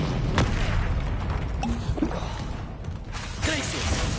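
The Incendio fire spell from Hogwarts Legacy goes off in a few deep booming bursts and whooshes, heard over continuous loud game ambience and music.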